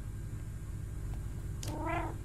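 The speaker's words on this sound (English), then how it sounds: "I can hear meowing in my head as well, which is adding to the realism." Virtual cat in the VR game I Am Cat gives a single short meow near the end, faint and alone over a low steady background hum.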